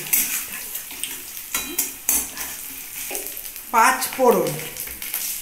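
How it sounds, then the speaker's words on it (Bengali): Panch phoron spices go into hot oil with reddish fried onion and bay leaf, producing a light sizzle among sharp clinks and scrapes of a utensil against the pan, with a brief voice near the end. "এর মধ্যে একটু পাঁচফোড়ন দেবো"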